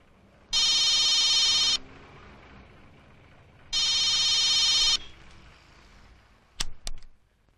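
A mobile phone rings after a call is placed: two bright, steady electronic ring bursts of about a second each, separated by a pause, followed by a couple of short sharp clicks.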